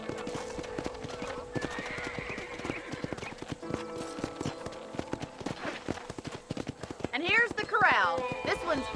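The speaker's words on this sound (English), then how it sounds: "disciplines for the horses. What do you think? I'm no expert, but it certainly looks like a fine corral" Horses at a ranch corral in the Red Dead Redemption game, with steady clip-clopping hooves and a couple of clear whinnies near the end, heard under talking voices.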